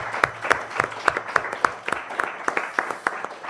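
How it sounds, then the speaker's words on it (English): Audience applause closes a symposium panel on urban migration data, a moderate scattering of distinct, fairly regular hand claps from a modest crowd, with a voice faintly beneath. "A big round of applause to Elena and Robert"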